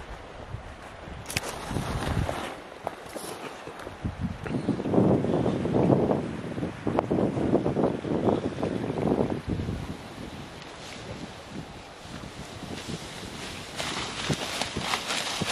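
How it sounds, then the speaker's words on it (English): Wind gusts buffet the microphone outdoors on a rocky hilltop while wild camping around Loch Lomond and Kielder Forest, rising to a strong roaring rush in the middle and easing back to a steady blustery noise. "She is a windy one."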